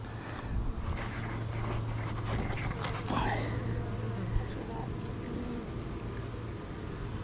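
Honeybees buzz steadily around an opened hive during a late-summer inspection, a dense close drone with a low hum running underneath throughout.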